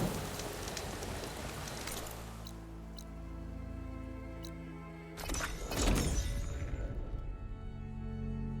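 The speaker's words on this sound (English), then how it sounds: "Down to a drizzle. Almost over." Rain in the video game Horizon Forbidden West: a steady wash of rainfall with scattered sharp drop hits and a louder gust of spatter partway through, easing toward the end, no talk.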